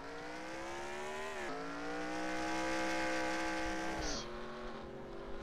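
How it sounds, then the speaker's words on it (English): Engines drone with rising, shifting pitch as race cars accelerate and shift gears at Atlanta in the NASCAR Racing 2003 video game, a steady mechanical whine with a brief squeal near the end. "but I hear cars coming around."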